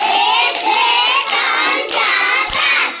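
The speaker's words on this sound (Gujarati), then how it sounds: "ચલો પાંચ તાળી પાડી દો" Children clap their hands together in unison, five sharp, fairly loud claps in a steady rhythm at a school, with no talking.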